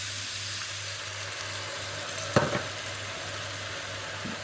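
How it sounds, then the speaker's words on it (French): Sausages sizzle steadily in a pan after a splash of white wine deglazes them, a constant close frying hiss with one brief sharper crackle partway through. "je vais venir déglacer au vin blanc"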